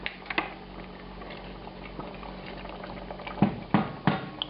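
Port wine BBQ sauce simmers down in the second stage of reduction, thick bubbles popping softly and steadily, with a few louder plops near the end.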